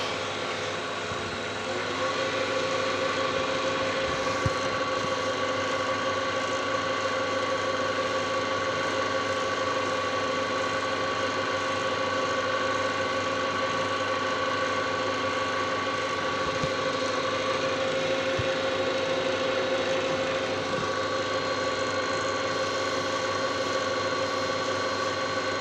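A wood lathe spinning a pen blank at speed after waxing, the motor kicking in after a brief moment and then holding a steady, even mechanical whine and hum for a long stretch.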